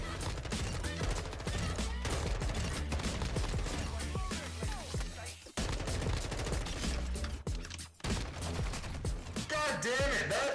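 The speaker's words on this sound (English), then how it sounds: "that shotgun is the slowest rate of fire I have ever seen in my life" Dense, constant game noise from a Call of Duty match, with repeated gunfire including shotgun blasts fired at a slow rate, loud and continuous with a brief dip partway through.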